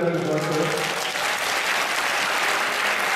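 Audience clapping steadily to welcome a guest at a religious saint gathering, a dense, sustained round of applause from a crowd filling the hall.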